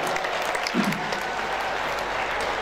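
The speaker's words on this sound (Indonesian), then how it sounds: "Tepuk tangan buat Pak Gubernur" A crowd at a Maulid Nabi religious gathering applauds the governor, brief dense clapping throughout, fairly even and close.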